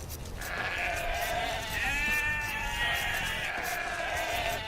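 Several sheep bleat in Age of Empires 2 during the William Wallace campaign, with loud, wavering calls that overlap and continue almost without a break.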